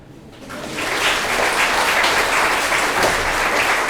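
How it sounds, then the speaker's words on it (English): An audience at a motivational talk bursts into applause, the clapping swelling in after half a second and then holding as a loud, dense, steady roar. "This is where you clap."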